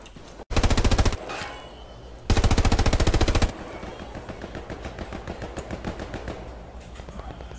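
Video game automatic gunfire in two loud rapid bursts, followed by a longer quieter stretch of rattling shots and metallic pings of bullets striking enemy soldiers' helmets.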